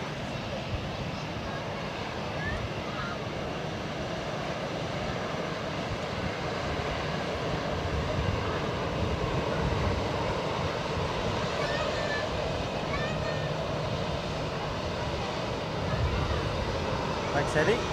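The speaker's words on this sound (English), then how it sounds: "runway 28 will be the Embraer E195-E2, and that'll be departing shortly in Helvetic Airways livery to Florence" Sustained roar of an Embraer E195-E2 jet in Helvetic Airways livery departing runway 28 at Zurich airport, a broad steady engine rumble heard from a distance, growing slightly louder toward the end.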